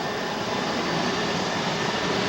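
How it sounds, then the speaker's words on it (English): A rescue helicopter hovering low over the roof of a nearly submerged house during a flood, a loud continuous roar of engine and rotor wash filling the whole stretch with no pauses. "moments later our helicopter hovers dangerously over the roof of an almost submerged house"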